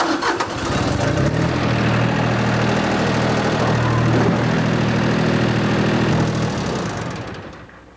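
A 1989 Case IH 200 Series tractor with a mid-mount mower fires up and runs at a steady, loud, close drone for several seconds before fading out at the end.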